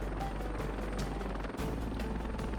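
A helicopter in a video game gives a steady, loud rotor drone with continuous low-end rumble and a dense, noisy wash that holds throughout.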